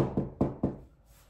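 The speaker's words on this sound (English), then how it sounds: "knock on wood." Three sharp knocks on wood, evenly spaced and close, ring briefly before a quiet tail.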